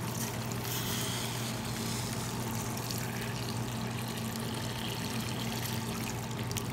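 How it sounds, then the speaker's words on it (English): Water pours steadily into a pot of potatoes on a stovetop for mashed potatoes, a continuous close rushing splash over a low hum, with no talking. "And I'm going to add in the water."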